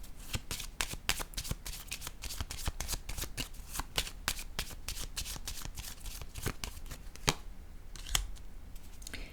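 Tarot cards are shuffled and laid down in a quick, steady run of crisp riffling clicks and flicks with a few sharper slaps near the end, fairly quiet and close, with no talking.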